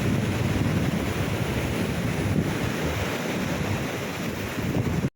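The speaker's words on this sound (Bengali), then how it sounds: "এখানে জল চলে আসছে" Sea waves wash in at Mandarmani beach, a loud continuous rush of surf mixed with wind buffeting the microphone, steady throughout before cutting off abruptly at the end.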